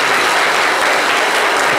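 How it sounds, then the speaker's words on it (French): A studio audience claps loudly and steadily on a French talk show, dense unbroken applause close to the microphone for nearly two seconds, with no voices over it. "On peut l'applaudir très fort."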